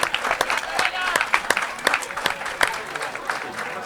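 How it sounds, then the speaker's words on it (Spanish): Spectators in the stands at a men's Galician league rugby match clap scattered, sharp individual claps over crowd murmur, while a commentator speaks throughout. "se lleva el aplauso en la grada Jorge."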